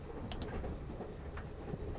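A train travels along the rails with a steady, low, continuous rumble, faint and even throughout, with no talking.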